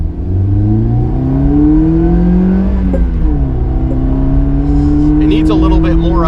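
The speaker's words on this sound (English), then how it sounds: "Nothing really happens when it revs up." Car engine revving through a homemade twin loop muffler exhaust, a loud close rising and falling drone with harmonic sweeps, running steadily with no clear build at the top end.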